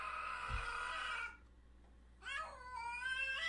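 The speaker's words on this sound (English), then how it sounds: "That's not a happy cat." An unhappy cat gives a loud, drawn-out harmonic yowl, falls silent briefly, then lets out a second wavering caterwaul, close and alone with no talk.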